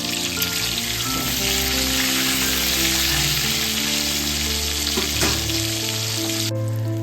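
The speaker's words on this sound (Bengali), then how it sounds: "হালকা করে নুন আর হলুদ মাখিয়ে নিয়েছি। এবার একটু ভেজে নেবো হালকা করে। নাড়িয়ে দিই।" Salted, turmeric-coated eggplant fries in hot oil with a loud, steady, close sizzle and an occasional stir, with no talk.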